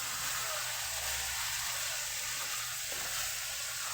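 Carrots being stirred in a frying pan for chop suey give a steady, close, unbroken sizzle that lasts the whole time with no pauses.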